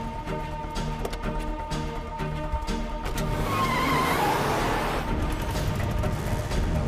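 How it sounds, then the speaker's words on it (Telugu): An auto rickshaw pulls away in a Telugu film scene, its engine noise swelling into a steady broadband roar over a sustained music score. "ఆటోలోనే వెళ్తున్నారు"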